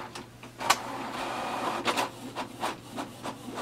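Canon Pixma TS6350 printer making a copy, with soft mechanical whirring and a series of rhythmic clicks and paper-feed rubs recurring every half second or so, quiet and close.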